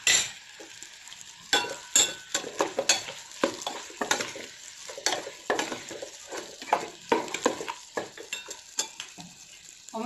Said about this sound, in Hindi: मसालों के साथ आप आधा 1 मिनट तक इसे भून लें।